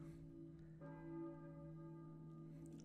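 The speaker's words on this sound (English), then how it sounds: "There's a bell ringing in the distance." A church bell tolls from a distance in the Silent Hill video game on PS1, one long resonant ring holding steady and sustained with a second strike around the middle, no voices over it.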